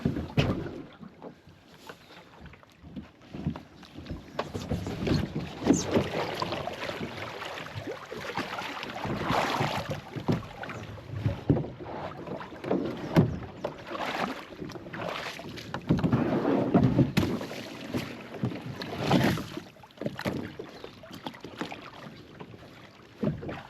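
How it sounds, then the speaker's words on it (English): Kayak paddle strokes splashing on the East Fork Whitewater River, a steady run of rhythmic, close water churns and slaps mixed with wind buffeting the microphone, with no talking. "But I'm just paddling too hard, dude. I'm paddling like I'm on my big old tank."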